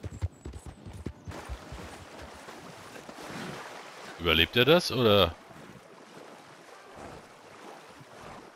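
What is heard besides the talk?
horse swimming through water in Red Dead Redemption 2 video game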